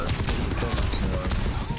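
Rapid gunfire in the online shooter game Overwatch 2 during a ranked match, a dense continuous burst of shots with voices talking underneath.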